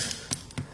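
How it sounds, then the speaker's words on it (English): Long-handled diamond nail cutters nip through a hoof in two quick, crisp snaps close by, with a short pause between them. "Using the diamond nail cutters, long handled ones,"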